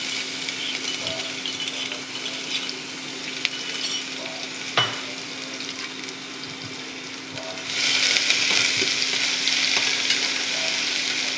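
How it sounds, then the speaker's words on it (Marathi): Cumin seeds, a pinch of asafoetida and ginger-garlic paste sizzle in hot oil in a home kitchen pan, a steady close frying hiss that grows louder and brighter partway through, with a few faint clinks. "आता जिरं टाकून घ्यायचं, थोडासा हिंग टाकायचा आणि आलं लसूणची पेस्ट आहे ना ही टाकायची."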